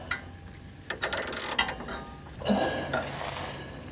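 A ratchet wrench clicks rapidly as upper shock absorber bolts are tightened on a 1997 GMC Savana van, a quick burst of close metallic clicks followed by a softer clunk of tools.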